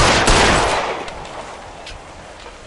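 Gunfire from the L.A. Noire video game: a loud burst of rapid shots at the start that gradually decays into a reverberant tail, with one more sharp shot right at the end.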